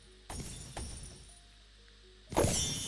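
Objects breaking apart in the video game Pet Simulator X, two brief shattering bursts early on followed by a louder, longer crash near the end, with a faint game background hum between them.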